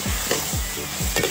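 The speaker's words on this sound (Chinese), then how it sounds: "我说老师傅，你炒菜炒的还挺快" Vegetables stir-fried in a wok at an outdoor market stall in Shandong, with loud continuous sizzling and several rhythmic scraping strokes of the spatula, close up and without talk.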